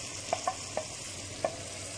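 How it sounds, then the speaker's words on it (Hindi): Chopped tomatoes and green chillies stirred into a sizzling pan while chicken kaddu cooks, steady frying hiss broken by a few soft clicks of a spoon against the pan, close by. "अब हम इसमें टमाटर और हरी मिर्चें ऐड करेंगे।"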